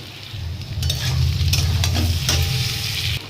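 A spoon scrapes and stirs spices sizzling in a pan over lowered heat while mashed prawns and taro stolons cook, with a steady loud fry and repeated scraping strokes up close.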